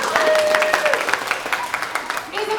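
Audience members at an elementary school Orff music performance keep up brisk, continuous clapping at close range, with faint voices and a brief tone mixed in.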